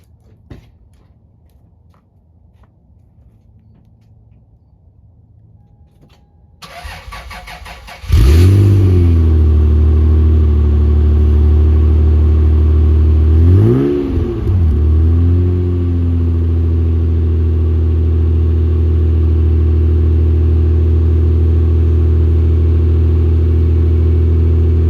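Toyota MK4 Supra fitted with an HKS exhaust. A few seconds of quiet are followed by cranking and a loud start-up, then two rev blips, before the engine settles into a steady, rumbling idle up close.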